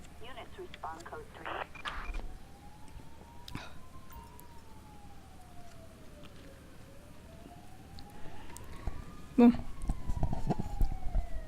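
A police siren wails in the video game GTA V, a faint rising and falling tone under ongoing talk, growing louder toward the end.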